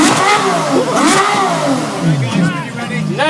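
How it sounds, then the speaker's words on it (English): Sports car engine revving hard at a Gumball 3000 rally arrival in London, a loud close roar rising and falling under an excited announcer and crowd noise. "Rev it!"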